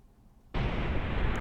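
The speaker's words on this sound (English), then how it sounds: "big explosion" A big video-game explosion erupts suddenly after a quiet lead-in, a loud, dense broadband blast that holds steady for about a second before cutting off abruptly.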